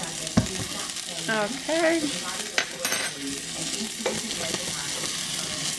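Garlic hits a pan of browned onions with a crackling sizzle, stirred with a few scraping knocks, while a voice talks briefly over the frying.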